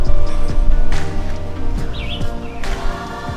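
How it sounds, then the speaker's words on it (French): Birds chirping and singing at a forest viewpoint on Mauritius, with wind rustling through the leaves; close, layered calls and a sweeping whistle over a steady breezy rustle, no talking. "Le bruit des oiseaux, le vent qui souffle dans les feuilles."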